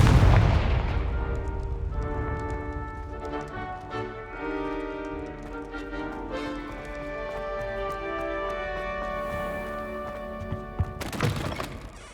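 A Confringo spell explosion in Hogwarts Legacy: a loud booming blast at the start fades into a ringing, shimmering tail, then a second sharp crack and burst near the end.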